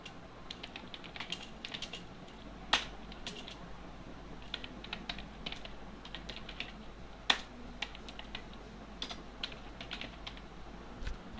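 Steady clatter of keys on a computer keyboard as lines of code comments are typed, quick irregular taps with a couple of louder key strikes, close and alone without talk.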